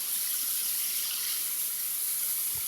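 A waterfall in West Virginia gives a steady, even hiss of rushing water, continuous and moderately loud with no talk.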